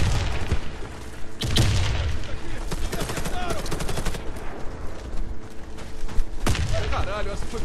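Rapid Saiga shotgun blasts in the video game Warface, a fast run of loud booming shots with a few more bursts later, mixed with game effects and occasional voices.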